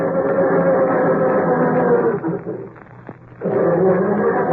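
A car motor grinding slowly and heavily as it struggles to start on a frosty morning, a steady low churning drone that dips and falters briefly before resuming, with no talk over it.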